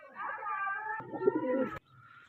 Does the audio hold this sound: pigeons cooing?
yes